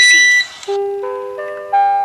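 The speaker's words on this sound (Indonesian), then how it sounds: "jadi dia begitu mendengar bunyi bip, Token listrik habis." Electricity token meter sounding a low-credit warning: a short series of clear, loud electronic tones stepping between pitches, close and alone with no talk.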